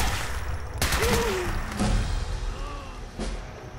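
Gunfire in the Fallout 4 Far Harbor video game, a few sharp shots cracking out over a constant hum of game ambience, spaced irregularly across a few seconds.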